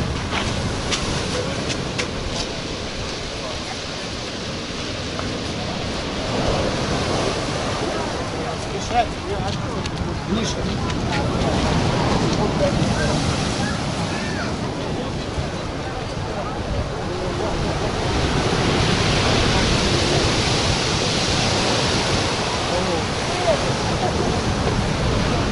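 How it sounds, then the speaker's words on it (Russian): Storm waves wash over the beach at Alushta, a continuous loud roar of surf and churning water with swelling surges and wind, lasting throughout. "А вот и сам шторм."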